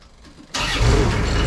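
A machine's engine is started: a short quiet lead-in, then the engine catches abruptly and settles into a loud, steady, close running rumble.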